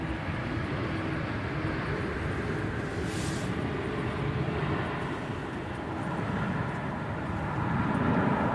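Airbus A380 airliner approaching Manchester Airport on a gusty day, a broad steady roar of engine and wind noise holding throughout and swelling slightly toward the end, with no voices.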